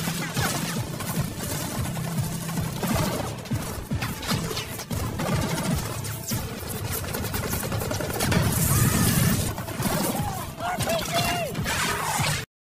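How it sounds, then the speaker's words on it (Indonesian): Movie gunfight between a Delta team and terrorists during a terrorist attack in London: loud, dense volleys of gunfire and crashing impacts run throughout, with voices faintly mixed in. "Dan terjadi baku tembak antara mereka dan teroris."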